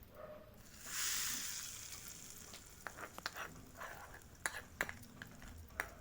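Hot oil tempering of cumin, mustard seeds and curry leaves for chutney, a sharp sizzle flaring up then easing, followed by light clinks and stirring taps of a utensil against the pan.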